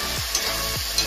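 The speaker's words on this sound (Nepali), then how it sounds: "फ्राई गर्दैछु है प्याज गराएर चाहिँ है" Chopped onions fry with chicken in a pan for a chicken soup, a steady bright sizzle with two soft scraping stirs of a utensil through the pan, close and continuous.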